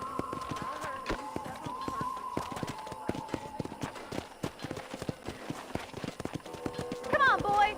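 Horse hooves clip-clopping at a ranch corral in the Red Dead Redemption video game, a steady string of sharp hoof strikes over a quiet background, with a brief voice near the end.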